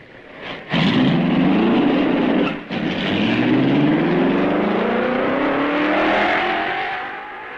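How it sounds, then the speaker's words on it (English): A Lancia Formula 1 race car from the mid-1950s starts up and accelerates away, its loud engine note climbing steadily in pitch through successive gears as it pulls off, with no talk over it. "The road is clear and Eugenio Castellotti starts the wheels rolling."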